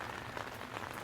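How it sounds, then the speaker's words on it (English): Heavy rain pours onto a tent at a provincial park campsite on a cold fall morning, a faint but dense, continuous patter with no gaps. "as you can hear, it's raining pretty darn hard"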